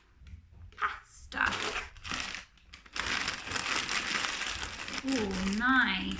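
Crinkly rattling of a bag of dry pasta being handled, with bursts of shaking, and a voice chattering over it near the end.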